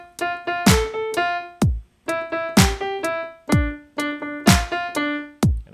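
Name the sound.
piano playing with drums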